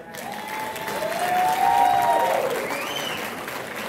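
A ballroom audience at the Stardust Ballroom claps and cheers in a sustained wash of applause that swells to a peak midway and then eases slightly, with a few whistles or whoops riding on top.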